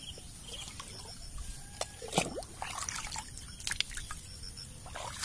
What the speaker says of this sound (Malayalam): ഒരു ലിറ്ററാണ് ഒഴിച്ചു കൊടുക്കുക